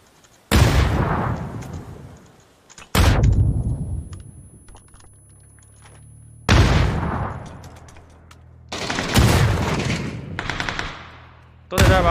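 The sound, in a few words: gunfire in a shooter video game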